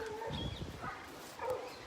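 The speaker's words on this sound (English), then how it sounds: "I think some dogs are having a fight out here." Outdoor dogs fighting: a few sharp barks and yelps at middle distance, bunched in short bursts with brief gaps, fairly faint against quiet background.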